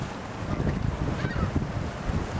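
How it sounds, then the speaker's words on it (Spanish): Wind gusts buffet the microphone as waves wash in at the lakeshore in Chicago, a loud, continuous rushing roar with no talking. "sí, estamos en el lago de Chicago"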